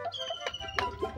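Bantam chickens cluck in a few short, soft calls at close range on a home yard in the morning, with no talking.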